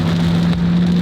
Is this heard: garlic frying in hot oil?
no